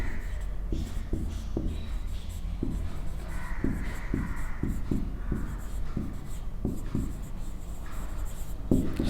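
Teacher writing a maths problem on a classroom board, chalk tapping and scraping in quick irregular strokes, close and clear over a steady room hum.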